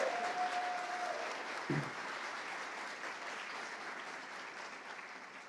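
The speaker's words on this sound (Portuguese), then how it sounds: "queria uma salva de palmas para os dois" Audience clapping for Adriana and Rodrigo at a company's tenth-anniversary celebration, a soft steady patter with a brief tone near the start and one thump, fading slightly toward the end.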